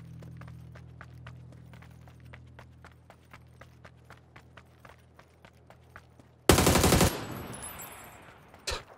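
Rapid gunfire in the battle royale game PUBG, a steady stream of sharp evenly spaced shots over a low hum, ending in a couple of loud bursts of noise.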